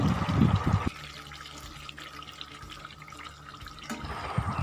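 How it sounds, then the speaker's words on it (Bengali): Hot water ladled into meat being braised in a pan, about three ladlefuls; a brief sizzling burst gives way to a steady close pour lasting a few seconds, then sizzling resumes. "একটু কষিয়ে নেওয়ার পর কিন্তু আমি জলটা দিলাম, প্রায় তিন হাতা মতো জল দিয়ে আমি মাংসটা ঢেকে ঢেকে কষিয়ে নেব।"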